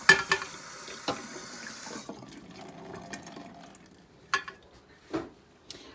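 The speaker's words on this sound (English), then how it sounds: "I do let the water run to make sure that nothing is clogged up." A kitchen sink tap runs water for about two seconds, a steady rushing hiss that stops abruptly, followed by scattered clinks and splashes of washing up.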